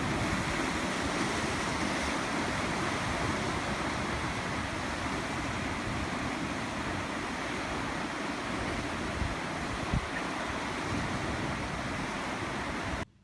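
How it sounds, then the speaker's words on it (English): Surf crashes continuously against the rocks at Enoshima on a windy day, a broad roaring wash of waves mixed with gusting wind buffeting the microphone, steady and fairly loud throughout. "seeing the waves on this particularly windy day crashing against the rocks"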